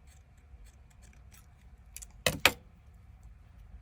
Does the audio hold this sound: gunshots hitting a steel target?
no